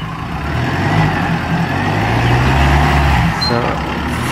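A Mahindra Thar in rear-wheel drive, two-wheel-high mode, strains off-road up a climb with a steady, loud, deep engine drone that holds throughout.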